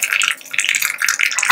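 Mustard seeds, chili and curry leaves tempering in a little hot oil in a small pan for sambar, a close, loud crackling sizzle with rapid irregular spits and pops, heard alone.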